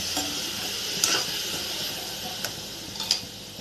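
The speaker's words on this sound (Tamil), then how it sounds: "சேர்த்துட்டு நல்லா ஃப்ரை பண்ணி விட்டுட்டே இருங்க." Chopped radish frying in a kadai, giving a steady bright sizzle with soft hiss, close and moderate in level, broken by a few brief stirring clicks.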